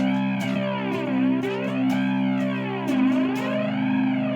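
A three-string cigar box guitar plays a riff through a flanger effect, giving sweeping, swooshing harmonic arcs that rise and fall over sustained low notes, with a few plucked attacks and no talk.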